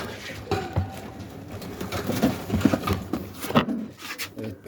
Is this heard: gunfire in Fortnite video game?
no